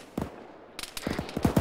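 Bursts of gunfire in a military shooter game, a few separate shots followed by a quicker run of rapid fire, fairly close and sharp, with no talk over them.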